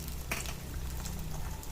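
Potato fritters (bergedel kentang) frying in hot oil give a steady, close hiss and sizzle with faint crackles, alone without talk.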